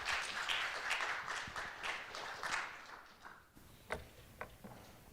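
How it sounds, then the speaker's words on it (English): Audience applause at a symposium honoring Ukrainian researcher Mykola and other researchers in Finland: a dense, steady wash of many hands clapping that thins out into a few scattered claps near the end. "I propose an applause to Mykola and all the other researchers"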